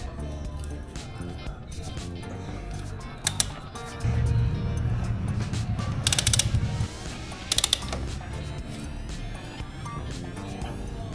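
Suspension linkage bolts tightened on a Suzuki GSX 150 motorcycle, close ratchet clicks and metallic mechanical clatter in uneven bursts with a few sharper knocks, over a low background hum.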